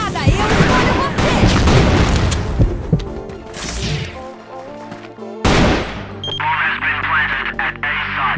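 In a shooter video game, a grenade goes off amid gunfire: a dense burst of shots and impacts, then a sharp loud blast after a brief lull, with a voice talking during the fight.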